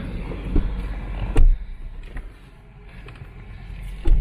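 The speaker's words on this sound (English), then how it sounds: "Let's go for a drive." A 2006 BMW 7 Series 750i pulls away for a drive, giving a low, steady rumble throughout with a few soft mechanical thumps near the start and end. No voices are heard.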